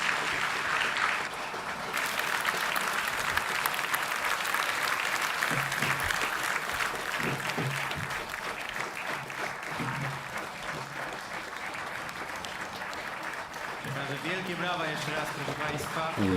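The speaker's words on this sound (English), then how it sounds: "Once again, a round of applause for the laureate" An audience at a literary award ceremony applauds the laureate, sustained even clapping that runs on for many seconds, moderately distant, with voices briefly audible near the end.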